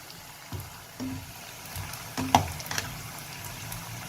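Shallots frying in oil for garnish, a soft continuous sizzle and fine crackle with a few sharper pops and a spoon clink, fairly faint and close.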